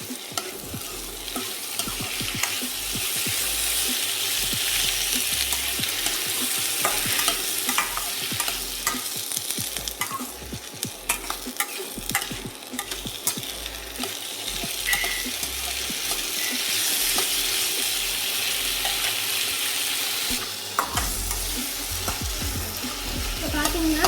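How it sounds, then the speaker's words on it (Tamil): Tomatoes and onions sautéing in a kadai for Chettinad egg kulambu, a steady close sizzle throughout with repeated scraping stirs of the spatula against the pan, no voices. "தக்காளி ஆட் பண்ணி நல்லா வதக்கிக்கலாம்"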